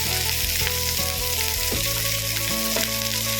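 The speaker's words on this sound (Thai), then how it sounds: "วันนี้จะผัดเผ็ดนะคะ ใส่หน่อไม้ดองเนาะ" Spicy fish curry with pickled bamboo shoots stir-frying in a hot pan, a steady loud sizzle with tonal hum underneath and a few clacks of stirring, no talking.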